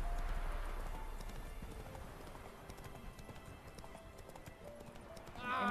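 Rhythmic clip-clop of the horse Roach's hooves trotting in The Witcher 3, steady and moderately close, with faint game ambience beneath and a brief brighter sound at the very end.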